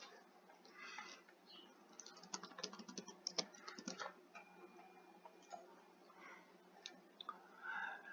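Keys tapped on a computer keyboard in short, irregular bursts while a review is written, close but quiet over a faint background, with a denser flurry of clicks midway.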